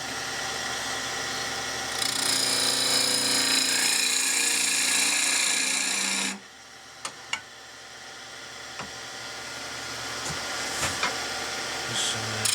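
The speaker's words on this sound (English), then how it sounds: "I could true up the end grain with the skew, but I usually do a little bit better with the bowl gouge" A bowl gouge cuts across the end grain of pear wood spinning on a lathe, a steady loud hissing tear for several seconds, then the cut stops and the lathe hum continues with a few light taps.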